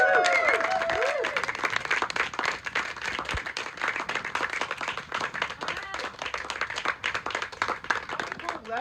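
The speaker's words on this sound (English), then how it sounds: "please give a warm round of applause for the next MLA for South Surrey" Crowd clapping at a BC Conservative campaign kickoff for a South Surrey MLA candidate, fairly distant and uneven, with whistles and voices mixed into the applause.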